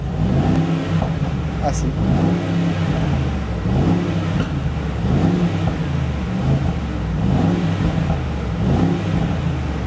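A 2023 Mercedes G63 engine revs and accelerates, with a deep rumbling exhaust rising and falling in repeated surges throughout, heard close under someone speaking briefly.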